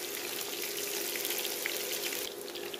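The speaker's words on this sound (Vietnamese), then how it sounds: "Bây giờ mình chiên nó vàng nó thơm rồi nè các bạn." Pieces of vegetarian wheat gluten frying in hot oil, a soft, steady crackling sizzle of fine pops, fairly quiet and continuous, with no voices.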